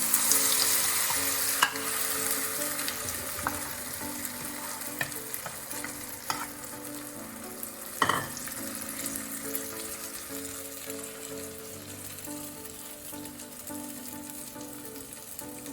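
Mung dal batter sizzles in a hot oiled kadhai, a loud hiss at first that settles into a softer steady crackle, with a few utensil taps.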